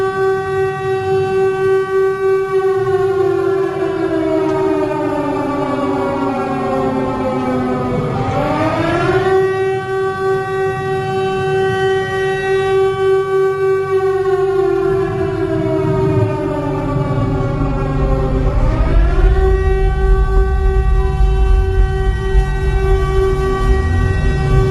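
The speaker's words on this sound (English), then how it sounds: "Tornado sirens going off in Texas." Tornado sirens in Texas wail outdoors with a long, rising and falling tone that sweeps up and down twice, loud and continuous.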